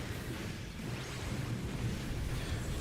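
A Thunder spell cast in the video game Final Fantasy XIV gives a dense, continuous rumbling roar with crackling noise on top, steady and fairly loud throughout, with no speech.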